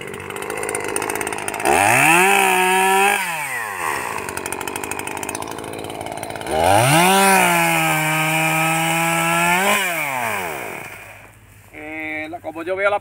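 Chainsaw engine revving in two long bursts while cutting a thick branch during pruning of a young hojiblanco olive tree in a dense planting in Posadas, Córdoba, loud and close, with a shorter rev at the end.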